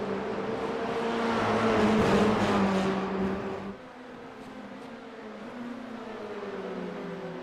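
Formula 4 race cars at the Spa Grand Prix circuit in a Belgian F4 Championship race, engines droning steadily at a distance, with a louder surge in the first half that drops away to a fainter, sustained hum.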